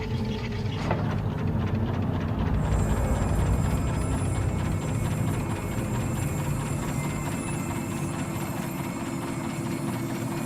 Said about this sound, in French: allez faire démarrer le moteur de la voiture